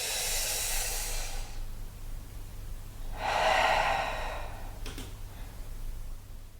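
Deep breaths drawn in and let out during a yoga forward fold for lower back relief, two long airy breaths close to the microphone over a steady low hum.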